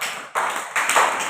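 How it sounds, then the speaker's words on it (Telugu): Children clapping in a classroom, three short bursts of close, bright hand claps in quick succession. "క్లాప్స్."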